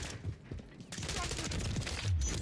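Dense rapid gunfire crackles through a Call of Duty Modern Warfare 3 multiplayer match, with overlapping shots and explosions filling the mix while a player speaks over the action.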